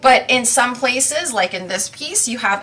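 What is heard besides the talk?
No distinct noise like a dog, phone or traffic.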